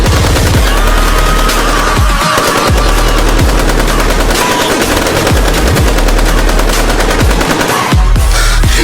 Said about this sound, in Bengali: আমি ফায়ারিং করছি